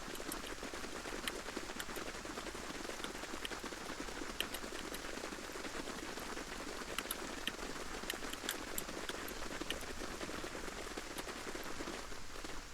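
Steady rain falls in the video game Everything, a dense, even hiss of drops with scattered sharper patters, moderately loud and continuous throughout with no voices.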